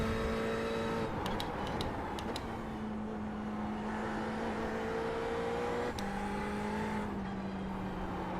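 Ferrari GT3 race car engine in a racing simulator, a steady sustained drone holding near-constant pitch with small shifts between gears, continuous and moderately loud, alone.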